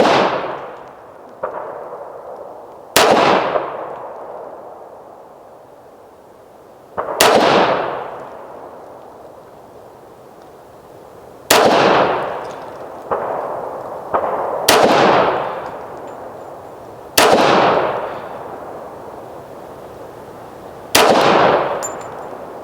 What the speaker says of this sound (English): I guess I'll shoot the Cabot first. Shoot it at the number 1.